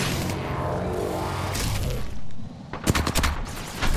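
A gun in Apex Legends fires in a rapid stream of shots that runs for several seconds. The fire breaks off, then resumes in sharp, loud cracks. No one speaks.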